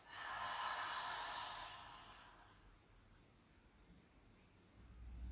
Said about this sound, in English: Breathe out through the mouth.